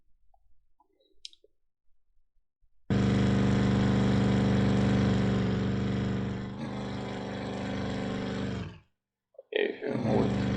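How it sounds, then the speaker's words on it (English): A car engine in a simple Unity car game starts abruptly and drones at a steady, loud, buzzing pitch for about six seconds, shifts slightly partway through, then cuts out, followed by brief clicks. "if I move this engine sound far from camera, it will be volumed down."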